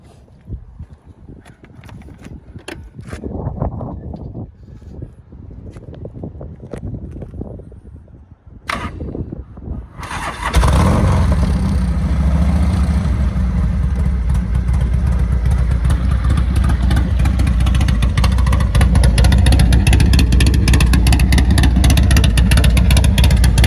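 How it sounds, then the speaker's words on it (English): A 1987 Harley-Davidson FXRP police motorcycle engine cranks and fires up after a few seconds of clicking and shuffling, then settles into a loud, steady, rumbling idle. "I'll start it up for you."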